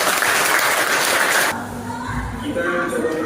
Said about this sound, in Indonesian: Oke, tepuk tangan buat Bapak.